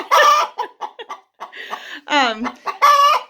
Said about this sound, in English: after they lay their eggs, they tend to do this, chortling and cackling and talking